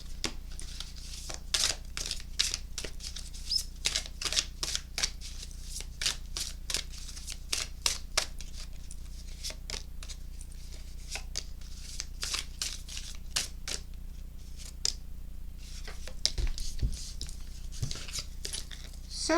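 Oracle cards shuffled by hand, giving a long run of crisp, rapid riffling snaps and slaps at close range, steady throughout with a brief pause near the end; no one speaks.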